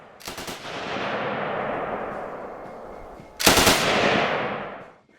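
A Bren light machine gun fires on a 1942 range course: two loud, close bursts, the first short and the second a few seconds later, each trailing off into a long echoing rumble across the range.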